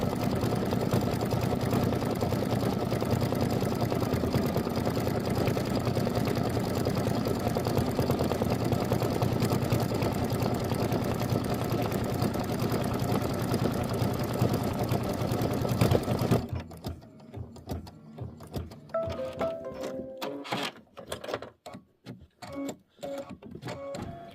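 An embroidery machine satin stitches a quilt block. Its fast, steady mechanical whir runs loud and unbroken for most of the clip, then gives way to scattered clicks and stops near the end.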